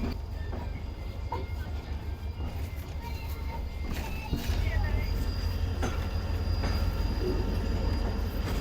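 Passenger train rolling along the main line in Pakistan between Mirpurkhas and Karachi, a continuous low rumble with rhythmic wheel clatter and occasional faint squeals, growing slightly louder partway through, with some voices and background noise.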